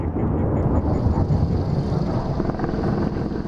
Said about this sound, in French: Les avions bombardent les positions des insurgés qui tentent de s'emparer des crêtes.